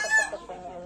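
A hen from a breeding flock, the daughter of a breeding rooster, gives a short run of close, clear clucks on a farm, with no talking.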